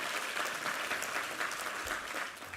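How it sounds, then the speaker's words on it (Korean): Church congregation applauding during a sermon service, with a brief burst of dense, even clapping lasting under three seconds that sounds somewhat distant. "우리 하나님께 감사와 영광의 박수 올려드리겠습니다."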